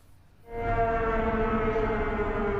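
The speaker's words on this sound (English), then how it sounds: "the siren blares warning to anyone in town to stay safe" A civil defense siren swells in and holds steady, loud and droning with layered harmonics, no voices, sounding over a flooded town in Sumas, Washington.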